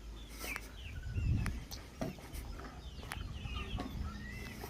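Chickens on a farm cluck in short, scattered calls at moderate distance, mixed with other bird chirps and faint rustling.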